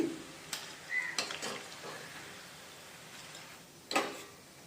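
Peanut pakoda frying in hot oil and being lifted out, heard as a faint, steady sizzle broken by a few sharp metallic clinks and scrapes of a slotted spoon against the pan.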